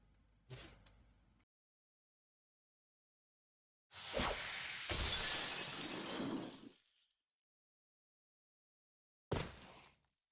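A third-floor glass window smashed in the Tsukihime visual novel, heard as a short crack, then a loud sustained shatter of falling shards and a final brief crash, separated by silences.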